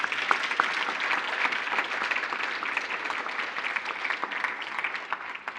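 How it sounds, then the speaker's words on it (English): A round of applause fills a hall at a public conversation event, steady crowd clapping sustained throughout with no pauses, fairly close and dense. "a round of applause so the picture will look much better"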